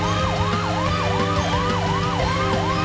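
A police car siren from the PlayStation game Tomica Police Land wails in a steady, rapid rise-and-fall cycle that repeats throughout, loud and continuous over low engine-like rumble.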